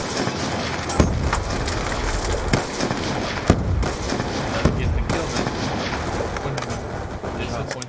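Gunfire in Call of Duty: Black Ops II during a competitive match, sharp loud shots cracking at irregular intervals over a dense, busy background of game noise and commentary.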